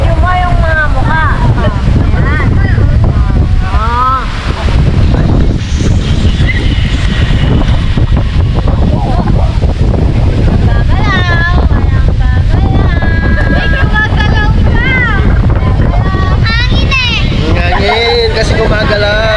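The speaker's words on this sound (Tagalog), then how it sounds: "Kasi gumagalaw, mahangin kasi." Strong wind rushes steadily across the microphone at a seaside campsite in Dingalan, Aurora, a loud constant roar with several people chatting and calling out through it.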